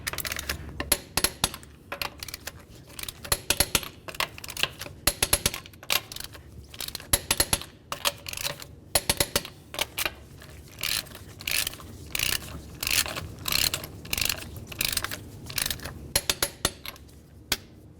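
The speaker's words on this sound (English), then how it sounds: "we can torque each of these 21mm lug nuts to 98 foot-pounds in a crisscross manner" A torque wrench ratchets and clicks while tightening 21mm lug nuts on a Nissan Titan wheel, with repeated bursts of sharp mechanical clicking, brief pauses between nuts, close and fairly clear.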